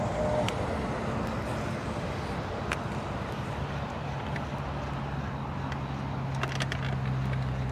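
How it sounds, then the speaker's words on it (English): Steady road traffic hums near Lake Guntersville, a continuous broadband wash of passing vehicles at middle distance with a faint engine drone, no voices. "You will have to deal with traffic, the sounds of traffic"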